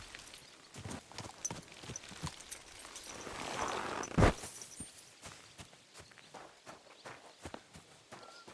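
Horse hooves clop in Kingdom Come Deliverance 2, a close, irregular series of hoof strikes on the ground, with a brief louder rustle midway and faint background ambience.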